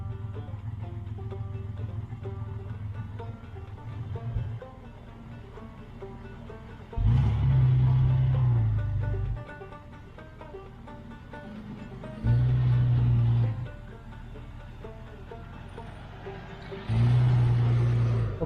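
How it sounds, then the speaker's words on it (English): A Jeep XJ creeps head first into a garage, its engine idling steadily nearby while three short bursts of revving swell louder at intervals, with no one speaking. "let's pull it in head first, and I'm kind of guide you over to one side of the garage"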